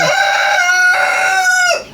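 A rooster crows once, loud and close, a single drawn-out cock-a-doodle-doo that breaks off sharply.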